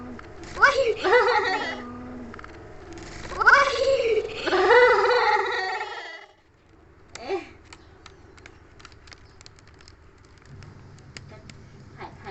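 Several kittens meow in high, rising cries, clustered close together over the first six seconds, then one short mew and faint household noise follow.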